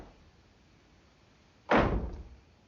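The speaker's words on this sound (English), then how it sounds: "Then she hears banging coming from the wardrobe." A sudden heavy thud bangs from inside a wardrobe in a horror film scene, one loud knock after a near-silent stretch, its rumble trailing off for about a second.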